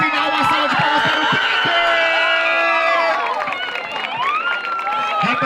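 A crowd at a Batalha da Aldeia rap battle in Brazil cheers, whoops and claps loudly and continuously, with shouting voices layered over a dense, roaring wash of noise.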